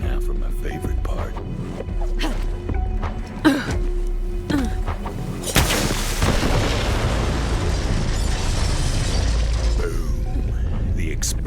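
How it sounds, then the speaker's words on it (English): An explosion echoes through a forest: a few sparse clicks and thumps come first, then one sudden loud blast that rolls into a long, roaring, rumbling decay lasting several seconds. "The explosion echoed through the forest"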